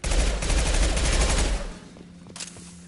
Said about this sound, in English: I can't not shoot this box.